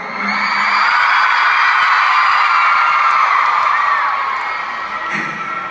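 A concert audience in Nashville cheers and screams in a loud, sustained roar that swells and holds for several seconds before easing slightly, with whoops rising above the crowd noise.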